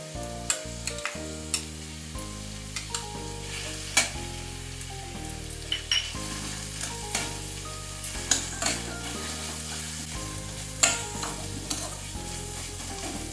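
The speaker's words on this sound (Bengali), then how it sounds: "পেঁয়াজ আদা রসুন আর কাঁচা লঙ্কা দিয়ে এটা একটু ভালো করে নেড়ে নিচ্ছি" Onion, ginger, garlic paste and split green chillies frying in a little oil while a spoon stirs them for chole masala, giving steady close sizzling with repeated scraping and clinking strokes throughout.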